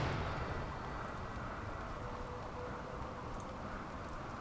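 Rain falling in RimWorld, a colony-building video game: a steady, soft, even hiss of rainfall that continues unchanged throughout, fairly faint, with no voices.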